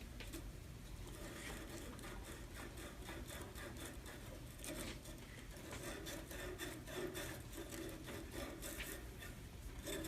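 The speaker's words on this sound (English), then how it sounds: "Sand both ends." Hand sanding a short piece with sandpaper in a shop class, a steady dense rasping scrape of back-and-forth strokes running continuously and close up, with no talk over it.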